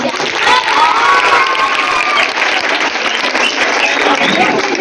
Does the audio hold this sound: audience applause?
yes